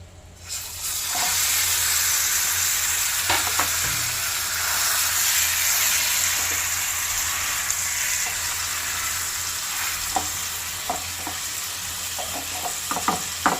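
Chicken hits a hot pan for butter garlic chicken and keeps sizzling with a steady, loud hiss, broken by scattered clicks and scrapes of stirring toward the end.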